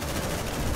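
A brief, loud burst of automatic gunfire from the Aliens: Dark Descent game, a rapid, sustained rattle with no pauses and no voices.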